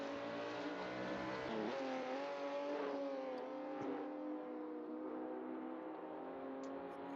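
Race cars in the 3 Heures du Mans exhibition race drone steadily with harmonic engine tones that rise and shift slightly, heard continuously throughout at a fairly distant level.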